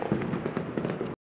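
A rapid series of crackling pops and bangs from fireworks, bursting in quick succession before cutting off abruptly.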